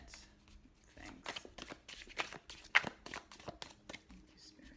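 Rapid bursts of shuffling from an oracle card deck (an Osset deck aligned with Goddess Serket), close and fairly quiet, with repeated riffling and sliding strokes across a few seconds.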